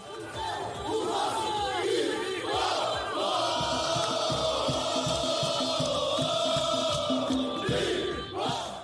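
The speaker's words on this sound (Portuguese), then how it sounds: "Começamos com o clima da torcida no hotel que o time ficou hospedado." An organized group of São Paulo supporters chanting in unison outside the team hotel, a loud, sustained crowd song with rhythmic claps or drum hits beneath, close and continuous.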